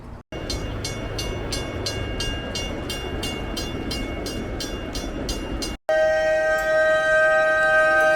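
A steady rumble of trains rolling past at Griffith Park, Los Angeles, with a rhythmic repeating clatter, then a sustained horn-like tone; loud and close.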